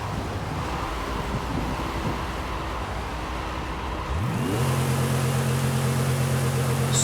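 Mustang muscle car with only three gears spins its tyres in first gear in Forza Horizon 5: a steady wind-like roar, then a loud rising engine rev with a strong sustained tone, close and alone.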